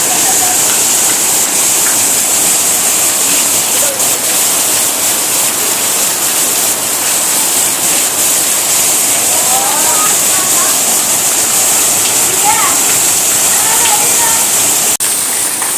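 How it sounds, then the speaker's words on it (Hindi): Heavy rain pours down steadily in a village, a loud, dense, unbroken hiss that fills the whole stretch, with faint distant sounds now and then beneath it. "ये देखो बारिश हो रही है ज़ोर से हमारे गाँव में"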